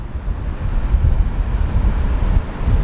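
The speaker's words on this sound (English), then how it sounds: "Incredibly violent, turbulent water coming through here." Turbulent ocean water surges through Cook's Chasm, a narrow rocky gorge on the Oregon coast, as a loud continuous roar of churning surf with gusty wind buffeting the microphone.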